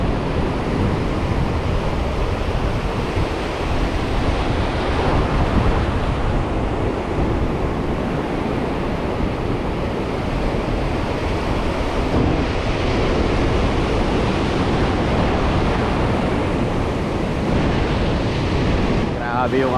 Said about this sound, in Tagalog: Grabe yung alon.